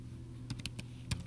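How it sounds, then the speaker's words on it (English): A handful of quick, light keystrokes tap on a computer keyboard in a quiet room, irregular and close, over a faint steady hum, with no talking. "You could actually do some typing here."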